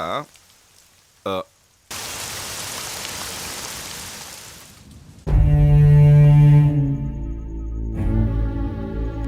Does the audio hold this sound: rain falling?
yes